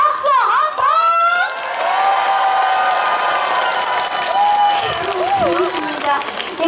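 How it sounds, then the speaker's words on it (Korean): An outdoor festival crowd claps and cheers in cold weather, with whoops and high shouted voices rising over dense applause, loud and lively, with a performer's voice briefly on a microphone over the noise. "다 같이 박수 한번!"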